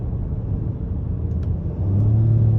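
A 2022 Acura MDX SH-AWD with a 3.5-liter V6 accelerating in sport mode: a steady low engine rumble heard from inside the cabin that swells into a louder, droning pull near the end.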